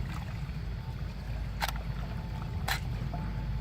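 A camera shutter set to one second fires twice at close range, two sharp clicks spaced about a second apart over a quiet, steady background hum.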